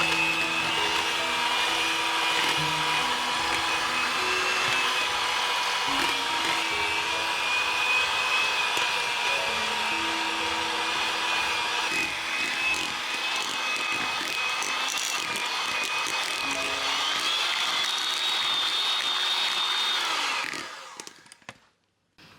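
An electric mixer whips spoonfuls of cooled custard into butter for a honey cake cream: a steady, loud motor whine holds for about twenty seconds, then cuts off at the end. No one speaks.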